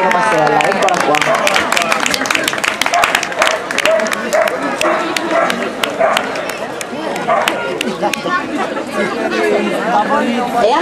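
Applause and cheering crowd chatter at an outdoor dog show catwalk, a busy continuous wash of claps and voices with an announcer talking over it throughout.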